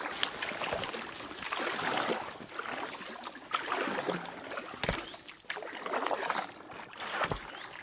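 A small boat from DEPO paddles down a river, with steady wash and dripping water sounds from the paddle, fairly close, continuous and moderately faint, with no voices.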